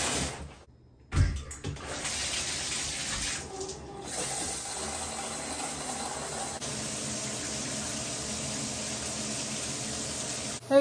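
Steady broadband rush of shower water running while the water heats up, continuing evenly for most of the stretch after a brief quiet gap near the start, with no talking over it.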